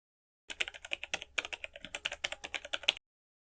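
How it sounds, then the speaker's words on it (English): Quick bursts of clicky keystrokes on a BlackBerry physical keyboard, close and crisp, tapping in an irregular rapid rhythm for about two and a half seconds with no voices. "the famous BlackBerry keyboard made typing feel effortless"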